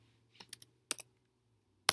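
Sparse bursts of typing on a computer keyboard, a few quick key clicks followed by pauses, close and crisp in an otherwise quiet room.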